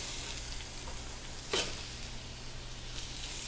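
Minced onions, celery and garlic with ground beef sauté in a pan, giving a soft continuous sizzle with a brief sharp stir or clatter near the middle, fairly quiet and close.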